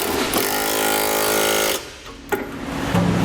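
A power tool snugging down Curt trailer hitch receiver hardware on a 2010 Subaru, a loud steady whirring run of about two seconds that cuts off, followed by a short burst and a brief restart.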